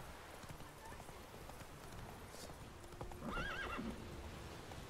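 Roach, the horse in The Witcher 3, clip-clops along at a steady walk with a short whinny partway through, quiet and close, while a voice talks faintly in the background.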